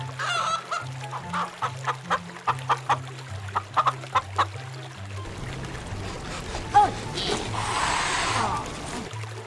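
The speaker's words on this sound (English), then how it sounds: "Chicken." A chicken clucks in a quick, regular series of short, even notes for several seconds, loud and close, then gives way to a busier, noisier stretch with a brief sharp squawk.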